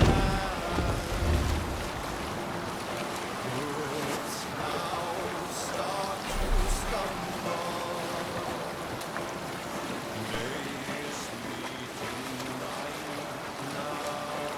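A sailing ship pushes through open sea in Assassin's Creed Valhalla, with steady rushing wind and water wash, a few louder gusts and surges, and faint voices shouting beneath the wind.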